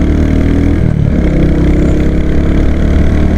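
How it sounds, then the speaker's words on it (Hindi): Royal Enfield Hunter 350 single-cylinder motorcycle exhaust, a loud, close, steady low thumping rumble while riding, with a slight shift in engine note partway through. "एग्जॉस्ट का जो थंप है वो अलग ही फील दे रहा है यार।"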